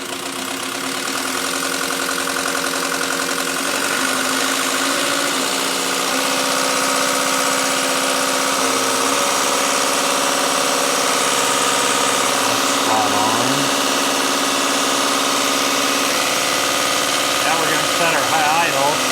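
A 450G dozer's diesel engine idles after a DB4 injection pump repair, a loud, steady, close rumble with a slight knock that continues without a break.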